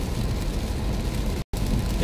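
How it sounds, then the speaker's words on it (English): Heavy rain falling steadily outdoors, a dense continuous hiss with a low rumble, fairly loud and unbroken apart from one very brief dropout. "Oh, so much rain"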